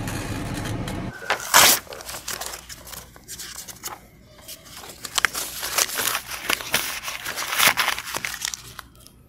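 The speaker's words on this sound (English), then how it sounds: "I ripped the page out." Paper page ripped out of a library book, heard as a sharp tearing burst near the start followed by repeated crinkling and rustling handling noises, close and moderately loud, with no talk.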